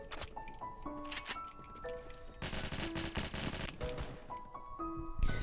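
Bursts of ASVAL assault rifle gunfire in the online shooter game Phantom Forces, several sustained automatic strings heavy in the middle, mixed with steady game music tones and ambient noise.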